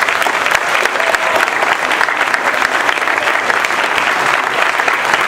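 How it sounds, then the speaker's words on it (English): Audience at a school assembly gives a loud, sustained round of applause, dense clapping continuing evenly throughout. "a real big round of applause for him."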